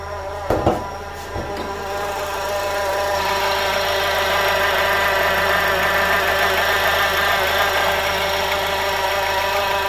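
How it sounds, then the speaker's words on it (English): A 2-liter Honda K20 four-cylinder in an Acura CSX, in a garage, with engine noise being diagnosed: a couple of brief throttle blips, then the engine climbs and holds at high RPM with a loud, steady drone. "Couple tests here on the gas pedal, RPM. Yeah, it goes up high when you rub the engine all the way."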